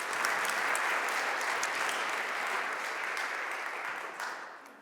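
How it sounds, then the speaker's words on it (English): An audience at a panel discussion on the global energy transition applauds, a dense, sustained wash of clapping that holds steady for several seconds and then thins slightly toward the end. "All right, we will applaud."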